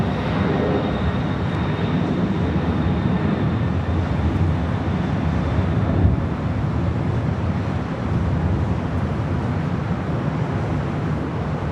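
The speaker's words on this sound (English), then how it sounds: "Aloha Air Cargo heading to Honolulu, now rolling down to 5 right there on the south side." Aloha Air Cargo plane rolling down the runway at LAX, heard as a constant, loud broadband roar with wind-like rumble, steady throughout with no voices.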